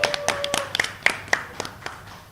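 Members of a chess commentary panel at the FIDE World Cup 2025 in Goa clap, sharp irregular handclaps close to the microphone with a brief voiced exclamation mixed in.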